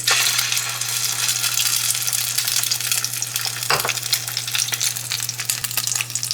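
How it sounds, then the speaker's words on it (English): Eggs frying in hot oil in a pan, a steady, dense sizzle with crackling spatter running throughout at close range, with a steady electrical hum beneath and no talking. "I'm going to drop my eggs in this hot oil here"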